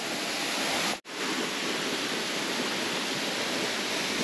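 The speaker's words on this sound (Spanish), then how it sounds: "ya estamos justo en la cascada" Velo de Novia waterfall in Temalac, Guerrero, pours with a loud, steady broadband roar close by, continuous apart from a momentary drop-out near the start.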